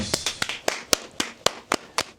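Nine sharp hand claps ring out close by in a steady, slightly uneven rhythm, each one a crisp isolated slap with short gaps between.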